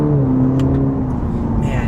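Cadillac CT4-V four-cylinder sedan engine holding a loud, steady drone as it revs through downshifts, heard from inside the cabin with brief mechanical clicks and no talking.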